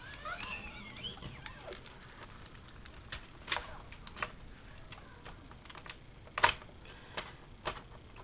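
A desktop PC keyboard is turned over and handled, giving scattered plastic clicks and soft knocks with a few sharper taps, close and fairly quiet, with no talk.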